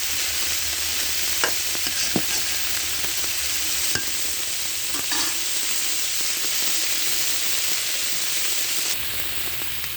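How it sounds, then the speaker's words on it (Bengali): River jatka fish fry in a well-heated wok, a steady loud sizzle with a few sharp stirring scrapes and clicks early on, no voices. "এই দেখেন মাছ ভাজা হয়ে গেছে"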